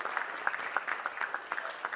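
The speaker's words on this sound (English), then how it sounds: "तो एक बार सर के लिए जोरदार तालियां हो जाए एवरीवन" An audience at a foundation empowerment conclave claps steadily in a dense, continuous round of applause, moderately distant and without talk.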